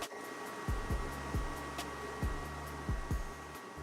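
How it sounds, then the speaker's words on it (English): A basement heater fan hums steadily as it circulates air through the house, a constant low whir with faint tonal whine, overlaid by several soft dull thumps at irregular intervals, with no one talking. "that fan noise, simply put, is the heater circulating through the house"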